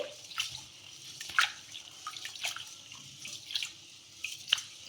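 Water sloshing and splashing in short bursts, with small drips and swishes as rice is rinsed in a bowl, close by and fairly quiet.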